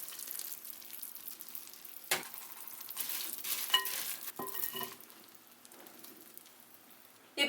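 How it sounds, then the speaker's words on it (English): Boondi is stirred into sugar syrup in a pan, giving irregular wet squelches and sticky scraping bursts that come and go, close up and fairly soft, with quieter stretches between and no talking. "add the rest of the sugar syrup and mix it well."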